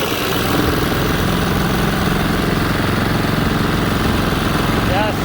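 Honda GX200 11 hp mud motor with a size 8 prop pushing a 10 ft jon boat at cruise, a loud, constant low engine drone with buzzing harmonics and water wash throughout.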